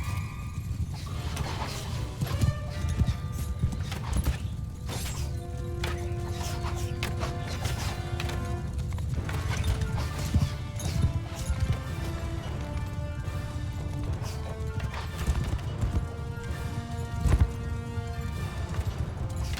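Horses or donkeys gallop in the video game Mount & Blade II Bannerlord, giving a dense, steady stream of hoof clatter under layered battle noise and music, with no talk.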